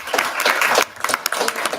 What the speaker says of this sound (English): Let's show the candidates that we appreciate their participation this evening with a round of applause.